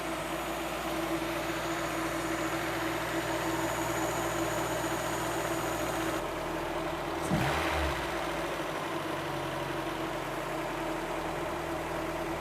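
A car engine idles steadily on the high side, a constant mid-range drone with a low hum and a brief bump near the middle, no talk over it.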